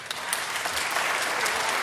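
Audience applause at a city health commission meeting, a steady, loud wash of many hands clapping throughout with no pauses.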